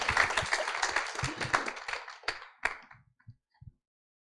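Applause at a startup founder showcase starts as a full crowd clapping, then thins over a few seconds into scattered single claps before dying away to silence.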